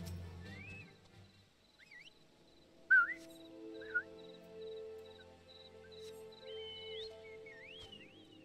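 A character's whistle in the Final Fantasy XIV video game: several short, bright chirping tones that rise and bend, scattered over steady background game music.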